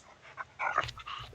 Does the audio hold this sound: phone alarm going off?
no